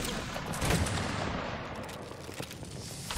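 Musket volley fire in a Napoleonic battle game, a dense, continuous rolling crackle of many distant shots with sharper pops at intervals.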